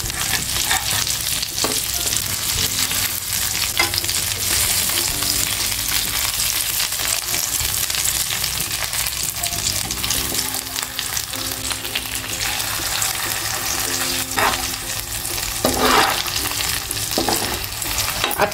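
Stuffed bangda (mackerel) frying in oil in a pan, a steady dense sizzle running throughout with occasional stirring and scraping clicks, no talking.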